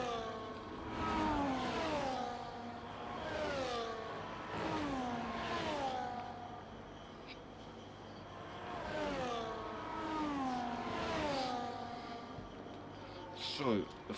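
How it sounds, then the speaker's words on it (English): A Ferrari race car in a Can-Am video game race, DRS open, engine note climbing and dropping in repeated rising sweeps down the straight as it shifts through gears, heard under steady commentator talk. "So, the Ferrari with the DRS wide open down that straight"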